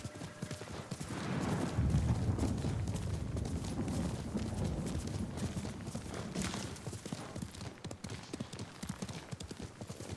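Horse hooves clopping and galloping across the ground in the Ghost of Tsushima video game, a steady dense patter that swells after the opening seconds and runs on at moderate loudness, with no talk.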